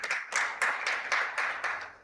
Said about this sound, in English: give a big round of applause to all our partners